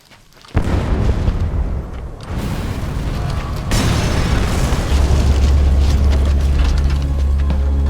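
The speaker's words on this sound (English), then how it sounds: "Be sure to time the explosion." A timed C4 charge detonates on a separator tank in Metal Gear Solid V: The Phantom Pain, one sudden loud boom followed by a long rolling rumble and debris noise that keeps building and sustaining.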